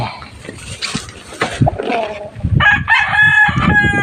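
A broodcock rooster crows loudly and close by on a farm, a harsh drawn-out call with clucking fowl around it and faint background noise.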